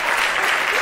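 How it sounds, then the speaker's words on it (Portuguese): Audience at a live stand-up comedy show applauding, a brief dense burst of clapping from a crowd. "Palmas, pessoal, faz barulho"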